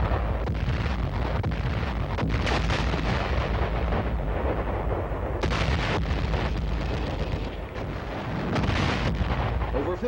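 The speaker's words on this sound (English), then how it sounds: "A tremendous barrage preceded the attack and continued intermittently during the day." An artillery barrage from massed guns rumbles on in dense, overlapping booms and blasts, loud and continuous with a few brief lulls, no voices over it.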